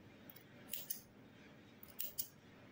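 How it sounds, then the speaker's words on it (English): Scissors snipping through yarn while finishing a crocheted Halloween witch hat, two quiet pairs of close, crisp snips in an otherwise quiet setting. "Now you take your scissors and cut the yarn."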